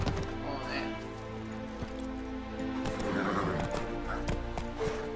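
A horse in The Witcher 3 neighs and whinnies, and hooves clip-clop beneath a music bed while a voice talks over it.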